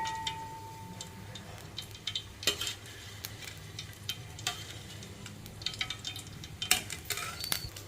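Ivy gourd and onion pakodi fry in hot oil, giving a low bubbling sizzle with scattered sharp ticks and clinks from a utensil, close and fairly quiet, with no talking.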